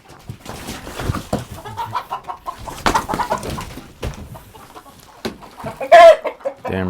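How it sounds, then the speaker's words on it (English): A rooster clucks and squawks repeatedly nearby, with a louder crowing burst near the end amid rustling movement. "Damn rooster, you come at me?"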